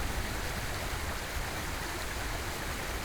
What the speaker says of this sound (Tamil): அங்க பாருங்க, மலைக்குள்ள ஒரு நதி ஓடுது